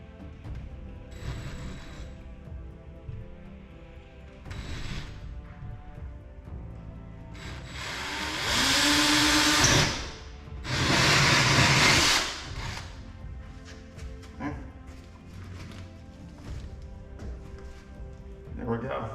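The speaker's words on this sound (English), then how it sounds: "I had to use the multi-tool to cut an additional piece of drywall out." An oscillating multi-tool cuts into drywall to widen a hole for a Tesla Wall Connector installation, giving two loud buzzing bursts amid quieter scraping and handling sounds.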